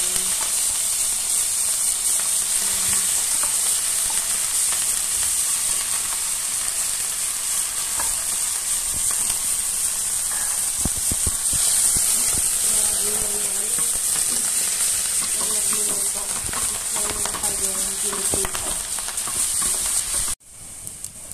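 Tofu sizzles steadily in a hot pan as it fries to golden brown, a continuous bright frying hiss with occasional stirring scrapes, close and loud, cutting off abruptly near the end.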